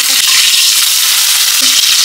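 Cumin and mustard seeds fry in hot oil for a vegetable dish, giving a loud, continuous close-up sizzle with light crackles throughout and no talking.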